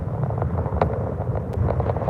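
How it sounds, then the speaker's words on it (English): Wind gusting across a lakeside at Turner Lake State Park in Illinois, a constant low buffeting rumble close on the microphone with small rises and dips. "Windy day."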